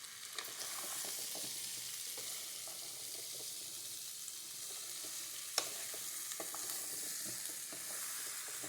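Curry leaves dropped into hot oil for a gooseberry pickle give a steady, moderately faint sizzle throughout, with a few sharp clicks and one brief pop of spattering oil standing out, and no voices.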